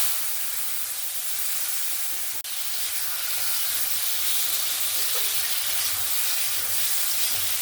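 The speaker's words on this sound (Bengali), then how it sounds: "এবার আমি হলুদ আর লবণ মাখানো আলুগুলোকে ভেজে নেব।" Potatoes coated in turmeric and salt fry in oil in a wok, a steady close sizzling hiss that runs unbroken, with one brief sharp click partway through.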